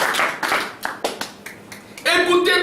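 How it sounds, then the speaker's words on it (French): Congregation clapping hands in praise during a French-language church service, a run of separate sharp claps that start loose and thin out, followed by a voice or music coming in at the end. "Acclamation pour le Seigneur."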